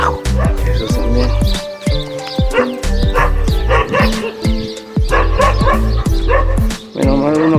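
Several dogs bark loudly and keep at it along a walking trail to Santa Rosa de Puquio, with yips and whimpers mixed into the rapid overlapping barks. The barking is close and continuous.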